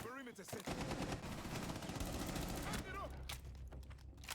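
Rapid automatic gunfire rattles through a competitive video game match, dense and steady for several seconds and then thinning into sparser shots, with commentators talking over it.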